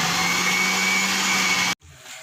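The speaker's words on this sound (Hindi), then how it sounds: "अब मैं इसको इकट्ठा ब्लेंड कर रही हूँ।" A kitchen blender whirs steadily as it mixes yogurt and gram flour into a smooth batter in a jug, then cuts off abruptly, leaving a quieter room tone.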